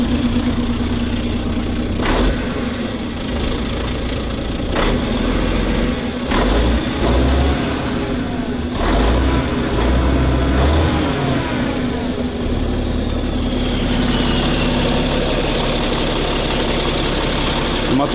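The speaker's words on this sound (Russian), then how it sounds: "Сейчас Вольву заведем, пусть качает воздух." Volvo F12 truck diesel engine starts and settles into a steady, slightly rough idle, close and loud, with a few sharp clanks and knocks over the running rumble.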